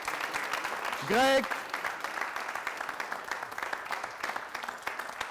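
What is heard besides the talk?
audience applause for a guest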